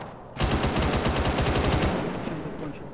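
Rapid bursts of automatic gunfire from a tower in a video game, loud and sustained after a brief quiet opening, with rhythmic repeated shots that fade slightly toward the end.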